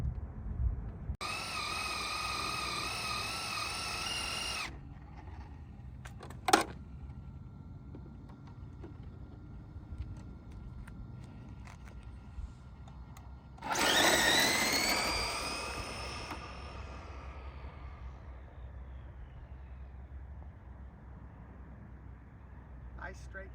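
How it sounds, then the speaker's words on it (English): A Losi '68 Ford F100 22S RC drag truck makes a straight full-throttle pass off the trans brake, a short loud electric whine that rises in pitch and then fades into the distance. A second shrill burst comes earlier. "Nice straight pass. That's full throttle off the trans brake."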